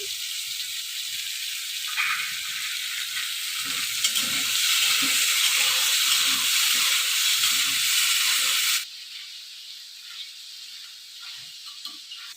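Chili and ginger paste frying in a pan, with a steady loud sizzle and hiss that swells in the middle and then drops sharply to a quieter hiss.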